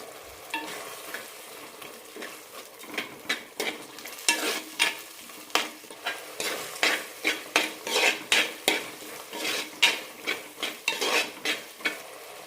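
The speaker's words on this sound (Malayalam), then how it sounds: "എണ്ണ തെളിയുന്നത് വരെ വഴറ്റാം" Biryani masala with a pinch of turmeric is stirred and sautéed in oil for mint biryani. A steady sizzle sits under rhythmic, close scraping strokes of a spoon against the pan, repeating about once a second with no talking.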